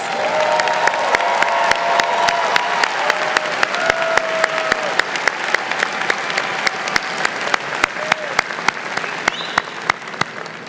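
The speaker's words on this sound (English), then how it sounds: "If you are graduating magna cum laude, please stand and receive our well-deserved applause." A commencement crowd at a spring university graduation applauds magna cum laude graduates, a sustained, full round of clapping with a few sharp individual claps standing out and faint cheers mixed in.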